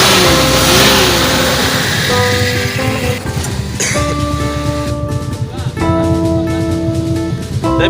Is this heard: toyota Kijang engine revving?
yes